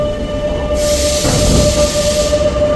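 A metro train in Milan rumbles loudly nearby, with a steady tonal whine and a rising rush of wheels and air as it moves along the track, and no voices.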